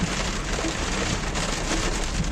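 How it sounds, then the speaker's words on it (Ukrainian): Light rain falling steadily on surfaces, heard as a dense, even hiss that stays loud and constant throughout; no talking. "Подивіться, який дощик такий невеличкий йде."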